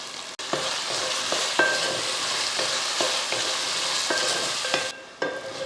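Tomatoes, onions and masala sauté in a pan for a mutton biryani, with a steady close sizzle broken by several scraping stirs of a spoon against the metal, no voices.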